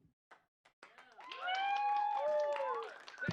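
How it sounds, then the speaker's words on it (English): A small comedy-show crowd claps and cheers as a comedian is brought on stage, with a few scattered claps swelling quickly into sustained applause and rising whoops that fade toward the end. "Thank you guys for those applause."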